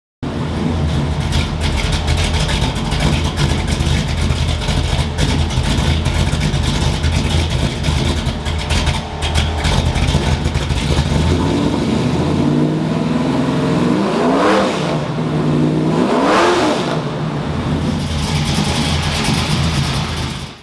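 A 1965 Chevelle Pro Street engine runs with a loud, heavy, rough idle rumble that stays steady for a long stretch, then climbs through two rising revs near the end before settling back.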